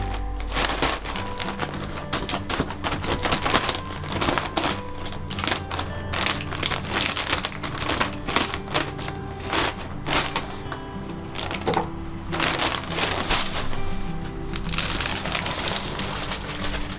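A blunt penknife hacks and saws at the plastic wrap of a bedding bale, giving irregular crunchy scrapes, rips and rustles that come in bursts, fairly close, with birds faintly in the background.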